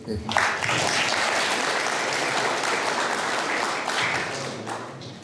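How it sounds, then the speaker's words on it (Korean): An audience applauds a guest at a May 18 Democratization Movement testimony event, with thick, steady clapping lasting several seconds and a few voices mixed in. "감사 박수 한 번만 쳐주시고"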